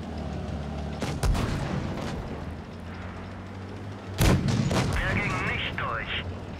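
Tank cannons fire in World of Tanks Blitz on Nintendo Switch, with two heavy booming shots several seconds apart over a low engine rumble. Someone talks in Spanish between the shots.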